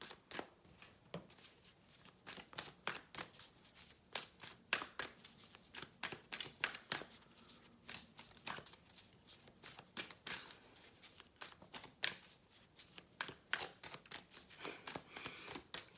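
Riffle shuffling of a Shaman Oracle card deck: rapid papery snaps and flutters in repeated bursts, close and clear, running steadily with no talking.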